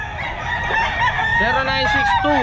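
A rooster crows loudly and close at the Bocaue pet market, one drawn-out call rising over busy market noise, with clucking fowl around it.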